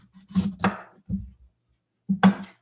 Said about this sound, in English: it's a good idea to take a chef's knife, cut it down the center